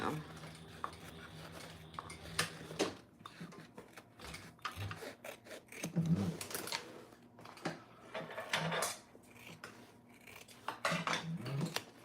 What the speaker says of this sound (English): I am going to go ahead and trim this top too